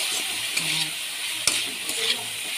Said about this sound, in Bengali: নুন দিয়ে দিলাম, হলুদ গুঁড়ো, কাঁচা লঙ্কা দিয়ে দিয়েছি, পেঁয়াজও দিয়ে দিয়েছি, এটা দিয়ে ভাজা করব।